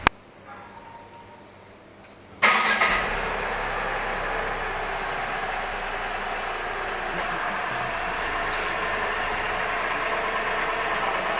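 A car engine starts abruptly after a quiet moment, then runs at a steady, fairly loud idle and low rev as the vehicle pulls out of a parking spot on a road trip, with no talk.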